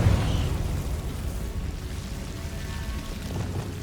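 A Confringo blasting spell going off in Hogwarts Legacy, a dense roaring burst with crackling, rain-like debris that sustains at steady loudness for a few seconds, with no voices.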